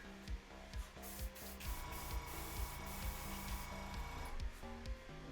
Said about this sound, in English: You might be able to hear my printer going on in the background.